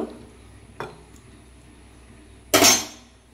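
A lid goes onto a cooking pot of soybean curry with a single bright metallic clink after a faint earlier knock, close by, over quiet kitchen background and no speech.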